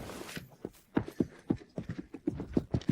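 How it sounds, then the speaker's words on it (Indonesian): Enemy footsteps in the Delta Force shooter video game thud in a steady, quick rhythm, close and distinct, with each footfall carrying a hard, clopping attack. "Langkah kaki mereka yang gelisah akan datang."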